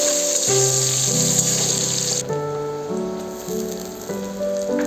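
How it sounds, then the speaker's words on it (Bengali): Chopped onion hits hot oil already seasoned with dried red chilli, bay leaf and whole cumin, giving a loud, steady sizzle with a faint crackle that holds throughout, with no voices. "এবার দিয়ে দিচ্ছি পেঁয়াজ কুচি"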